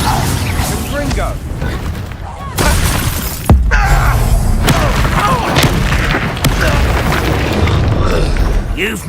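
Confringo fire spell blasting in the video game Hogwarts Legacy, sharp booming bursts with shattering debris, a loud impact near 3.5 seconds amid continuous game noise and voices.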